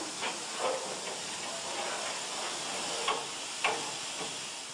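A 1919 steam locomotive standing in the Limoges station depot, giving a steady broad hiss of steam with a few short louder puffs over several seconds.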